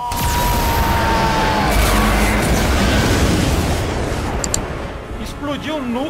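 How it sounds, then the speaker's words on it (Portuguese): A symbiote core blowing up in the Marvel vs Capcom Infinite story campaign, a loud booming, rumbling blast with crackling debris that fills the scene before fading into softer game effects. "Explodiu o núcleo do simbionte"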